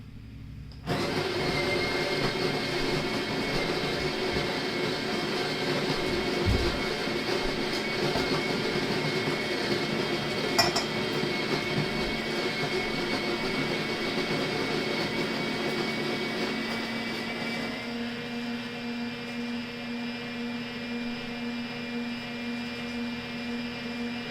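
An Opus coffee grinder grinds beans at setting 7, a loud steady whirring drone that runs for a long stretch, then drops to a lower, thinner spin near the end.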